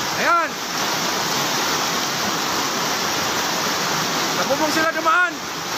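Floodwater rushes in a steady, loud roar like a torrent, broad and continuous, with brief shouted voices at the start and near the end.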